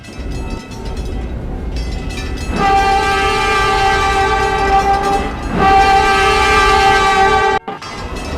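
Loud rumble of a video game train arriving at a station, with two long sustained horn blasts over the heavy rolling of the cars.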